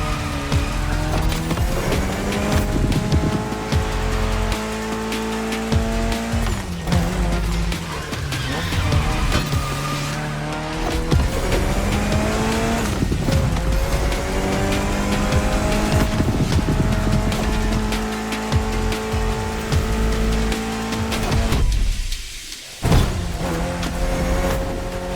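Race cars in The Crew Motorfest roar through a race, engines climbing and dropping through gear changes with intermittent tire squeal, loud and continuous, with a brief dip in noise near the end.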